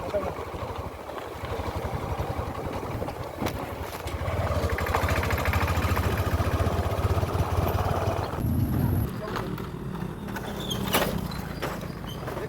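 A motor boat engine drones steadily on the water, a low continuous rumble that grows louder for several seconds and then shifts and eases, with faint voices nearby.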